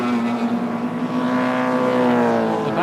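A racing saloon car engine at Kirkistown in 1988 drones loudly past at speed, a sustained high-revving tone that rises slightly as it passes, heard from the trackside.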